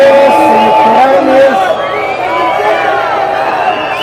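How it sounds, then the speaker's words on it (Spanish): A large crowd at the National Electoral Institute in Mexico City loudly booing the electoral council president, a sustained roar of jeers and shouts with voices mixed throughout. "ahí está el abucheo para la consejera presidenta del Instituto Nacional Electoral"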